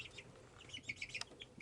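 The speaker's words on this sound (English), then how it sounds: "These are the Isa Brown hen that I'd ordered online." Isa Brown hens cluck softly in a coop, a few faint clucks and short chirps scattered over quiet background noise.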